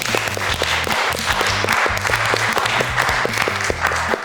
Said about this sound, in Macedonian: Голем аплауз за молам